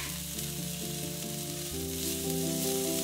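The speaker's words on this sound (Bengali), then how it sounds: "অল্প ভেজে কুচি করে রাখা পেঁয়াজ শাকের সাদা অংশটা দিয়ে দেব।" Garlic and chopped spring onion whites frying in white oil in a wok, a loud continuous sizzle near the pan, steady throughout with a faint tonal hum underneath and no talking.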